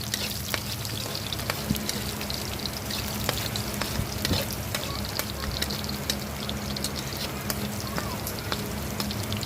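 Garlic frying in a pan for pinakbet, a busy crackling sizzle with frequent sharp pops and spatters throughout, fairly close and steady.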